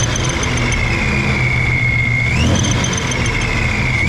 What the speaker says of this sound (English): there was like a wicked loud like squeal slash whine whenever I would be driving my Shelby GT350